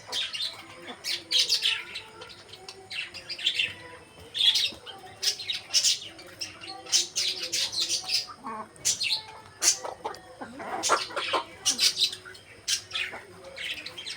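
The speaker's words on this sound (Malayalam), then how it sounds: "അപ്പോൾ നമുക്ക് കോഴിക്കളെ വിടാം" Nine hens let out to be fed rice cluck, chirp and squawk in quick, uneven bursts close by, with overlapping calls throughout and no speech.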